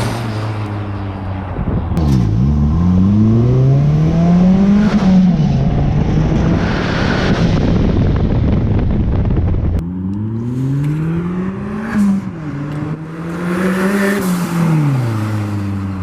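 A Honda-powered engine in an MR2-chassis VW Bug runs loudly up close, revving repeatedly with rising and falling pitch over a steady idle, with a brief break partway through.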